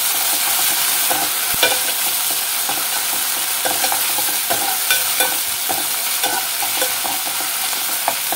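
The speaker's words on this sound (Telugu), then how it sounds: "చూసారా ఎంత చక్కగా వేగుతుందో, అరోమా చాలా బాగుందండి." Cauliflower fries in a pan with ginger-garlic paste for a curry, giving a steady close sizzle broken by the regular scrape and clatter of stirring throughout, with no talking.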